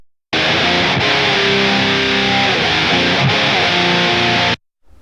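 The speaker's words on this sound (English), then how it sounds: "So let's check its amazing distortion, high gain distortion." A heavily distorted electric guitar played through a freeware amp plugin on high-gain distortion plays dense, saturated chords for several seconds, loud and sustained, then cuts off abruptly.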